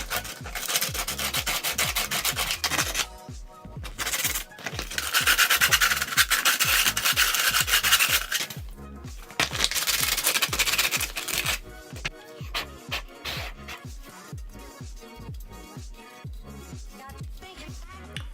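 Sandpaper rubs across a piece of wood being prepared for a reptile enclosure in close, repeated scratchy strokes, with bursts of steady rubbing and brief pauses.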